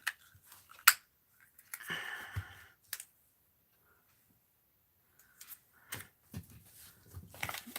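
Scissors snip through paper while hand-cutting small craft pieces, a few sharp quiet clicks and crisp cuts spread across near silence, close and soft, with no talking.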